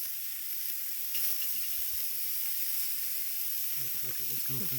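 Burger patties sizzle on a grill: a steady, close, broad frying hiss continues throughout, with a faint clatter toward the end. No clear talking.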